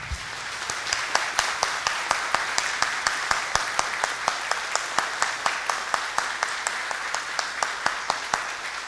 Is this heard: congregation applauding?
yes